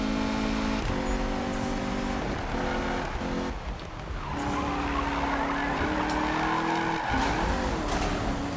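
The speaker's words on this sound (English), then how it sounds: "the drifting side of it is pretty easy" Mazda Miata drifting in Need for Speed 2015, engine revving at high pitch with shifting gear tones and steady tire squeal, loud and continuous throughout.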